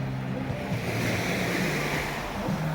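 Sea waves wash steadily onto the shore at a beach in Anda, Bohol, a continuous broadband surf with wind rumble and no voices.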